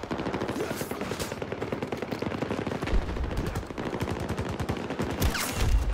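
Rifle fire in Battlefield 2042 rings out in dense rapid bursts of close shots with layered battle noise, heavier impacts punctuating the middle and end.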